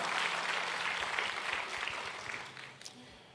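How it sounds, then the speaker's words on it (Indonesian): A church congregation applauds its praise and worship team, a dense wash of clapping that holds steady, then tapers off toward the end, with faint voices beneath. "Boleh kasih tepuk tangan buat tim praise and worship kita."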